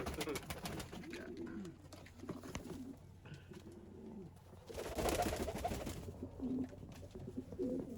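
Giant utility king pigeons raised for fairground shows coo in low, throaty rolling bursts from nearby, with some wing and cage rustling and occasional faint background voices.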